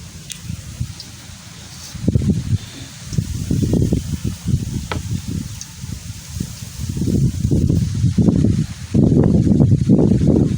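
Gusty outdoor wind buffets the microphone in low, rumbling surges beside an open-air village cooking stove, steady at first, then stronger and more continuous toward the end.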